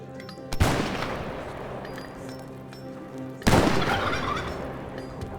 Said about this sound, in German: Das war der Truthahn.